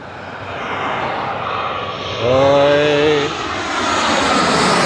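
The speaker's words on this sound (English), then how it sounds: "This is 787 Dreamliner from Bogota on Avianca livery." An Avianca Boeing 787 Dreamliner from Bogota coming in to land, a loud broad engine roar with a rising whine in the middle, heard close by and continuous.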